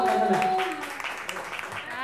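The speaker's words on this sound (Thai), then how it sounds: "ตามเสียงปรบมือนะฮะเสียงปรบมือก็ต้องมีคนบอกว่า น้องบูม นะฮะ" Audience applause at a guitar battle event, a brief burst of clapping under and around a host speaking, fading as the talk continues.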